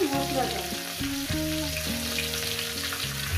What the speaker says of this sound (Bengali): আমি 10 মিনিট ধরে ভেজে নিয়েছি আলু ফুলকপিটাকে